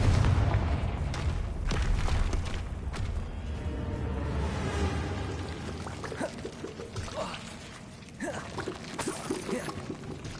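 A Confringo explosion spell goes off in a Harry Potter video game: a heavy boom and rushing whoosh up front, then rumbling debris and scattered impacts that thin out and fade.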